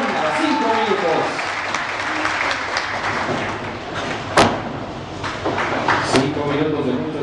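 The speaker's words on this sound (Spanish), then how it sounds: "Vamos a brindarles un aplauso" Audience applause at an exhibition martial-arts fight during a multidisciplinary cultural festival, steady clapping mixed with crowd noise and a live announcer's voice, with a couple of sharp thumps cutting through.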